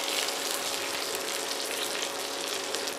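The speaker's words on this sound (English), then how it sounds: "Now, well, now we can turn the fish." Fish fillet pan frying in butter for a classic French meunière, giving a loud, continuous, dense sizzle with fine crackling that holds steady throughout.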